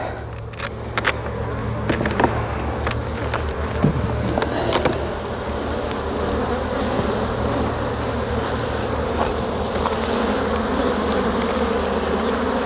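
Dense, steady buzzing from a swarm of honey bees around a beekeeper at an open, queenless hive, with individual bees zipping close past the microphone and bumping into it over a constant drone.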